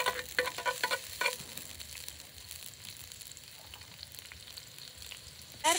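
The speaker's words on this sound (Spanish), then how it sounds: "ya está el aceite caliente, voy a acitronar lo que es la cebolla" Onion sizzling in hot oil in a pan while making fava bean soup, a soft crackling fry with a few clinks of a utensil near the start and again at the very end.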